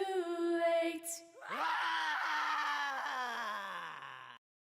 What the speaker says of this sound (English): having that clipping distortion being applied over the top of it